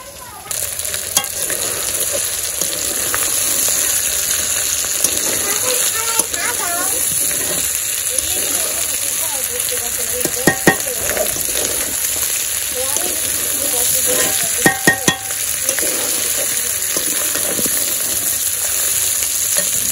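Spiced meat braising and stir-frying in a pan in a Bangladeshi village kitchen, a steady sizzle running throughout with scraping stirs and a few sharp clanks of a utensil against the pan.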